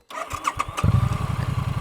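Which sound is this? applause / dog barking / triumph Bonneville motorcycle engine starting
triumph Bonneville motorcycle engine starting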